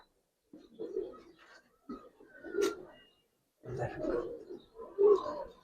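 Giribaz pigeons coo in soft, close, repeated bursts with short pauses between calls. Faint talk sits in the background.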